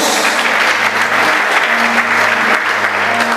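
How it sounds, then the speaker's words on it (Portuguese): Sustained applause from a church congregation during a sermon, a dense, steady wash of clapping filling the whole stretch with no speech over it. "Se alguém está vivo, está comigo, pode aplaudir e glorificar o nome do Senhor Jesus."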